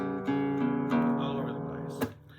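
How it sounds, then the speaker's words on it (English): A small out-of-tune guitar sounds a few plucked, wavering notes in separate attacks, moderately loud and close, with a brief sharper strike near the end and no speech. "This little guitar is out of tune."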